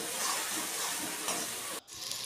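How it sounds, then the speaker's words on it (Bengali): Spice paste with turmeric and salt fries and is stirred in a pan for mustard-paste bata fish, making a steady close sizzle with scraping, which drops off abruptly near the end before resuming softly. "ভালো করে মশলাটাকে কষাবো"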